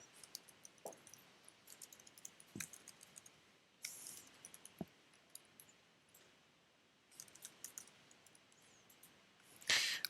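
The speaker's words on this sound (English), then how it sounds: "So we type it in again." A computer keyboard clicks faintly in scattered, irregular taps with pauses between short bursts, quiet and close in an otherwise still room.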